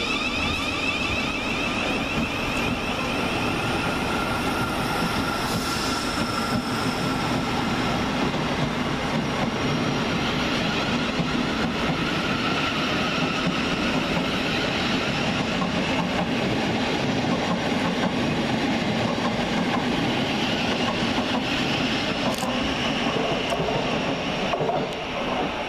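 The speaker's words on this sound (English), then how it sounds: "Next train rushing in with the 1529 South Western Railway service from London Waterloo to Kingston" Train noise at Richmond station as a South Western Railway service from London Waterloo to Kingston, a pair of class 455 units, rushes in, with a steady loud rumble and hiss that stays heavy the whole time, sometimes with a whine.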